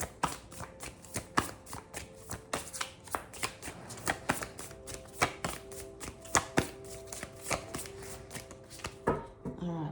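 A deck of tarot cards being shuffled and split, giving a steady run of crisp riffling flicks and taps close by, ending in a short ruffle.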